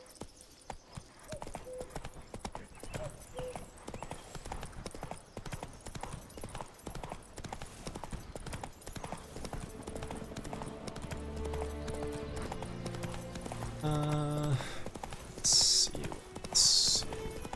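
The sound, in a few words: horse Roach clip-clopping in video game The Witcher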